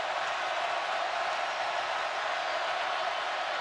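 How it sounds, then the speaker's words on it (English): A football stadium crowd roars continuously on a third down during an Arkansas at LSU game, a dense and steady wash of cheering with no pauses. "Crowd is really into it right now."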